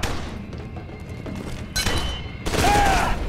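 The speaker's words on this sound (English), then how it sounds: "With the SMG." SMG fire in the first-person shooter F.E.A.R. 2: Project Origin: muffled game thumps build into loud, rapid bursts of automatic gunfire in the second half, with a tonal effect ringing over the last burst.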